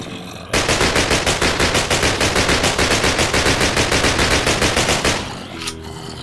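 Rapid, loud automatic gunfire from a WW2 rifle in a Minecraft mod blazes nonstop for about four and a half seconds, shot after shot in a tight rhythm, with no talking.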